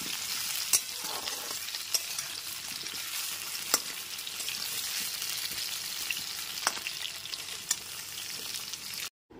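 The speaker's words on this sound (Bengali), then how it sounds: "গ্যাসের ফ্লেমটা মিডিয়ামে রেখে সমস্ত আলুগুলোকে লাল করে ভেজে নেব।" Potatoes frying in oil over a medium gas flame give a steady, moderate sizzle with occasional sharp pops and spatters, continuing unbroken until an abrupt stop at the end.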